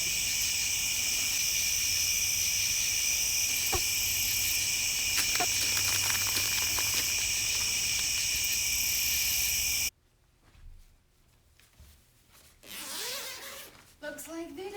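Crickets chirp in a steady, dense high-pitched drone at night near rocks and standing water, loud and continuous before cutting out abruptly, followed by quieter rustling and faint movement sounds.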